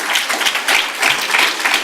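Strong applause from a public audience at a talk by a juvenile court judge in Pilar de la Horadada, dense and steady throughout with no speech over it.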